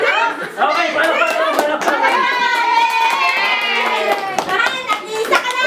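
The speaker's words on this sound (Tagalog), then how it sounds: "Okay, palakpak." A group of children clap their hands together indoors amid lively chatter and shouting, the clapping loud and close, blended under constant young voices.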